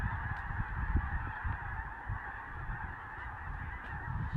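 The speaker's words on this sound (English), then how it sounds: "thousands of geese coming in to roost right behind the lodge" A large flock of geese honking continuously as thousands come in to roost behind a lodge at sunset, a dense layered chorus of calls at steady volume with some nearer honks standing out.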